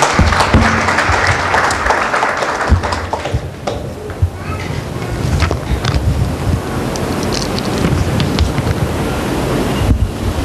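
A church congregation at a Tuesday prayer meeting claps loudly and steadily, a dense, broad wash of applause that stays at full volume throughout.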